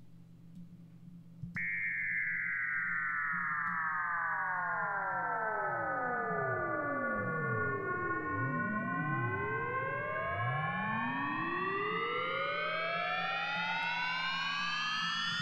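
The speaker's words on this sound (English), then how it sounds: "What if we bring the frequency of the modulator up and the frequency of the carrier down?" FM synthesizer in a techno set, modulator frequency raised and carrier lowered, starting abruptly into a sustained tone whose partials sweep down and back up in crossing arcs, steady and loud with no voice.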